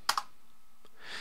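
Two quick clicks of typing on a computer keyboard, sharp and close, followed by faint room quiet and a soft rustle at the end.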